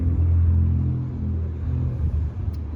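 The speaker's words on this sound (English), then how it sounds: "Loud cars always, every time I try recording." A loud car rumbles past outdoors, its deep engine drone filling the foreground before easing slightly as it moves away, with no speech.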